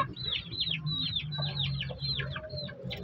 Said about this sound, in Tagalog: So ito yung ating nag-iisang brood hen guys.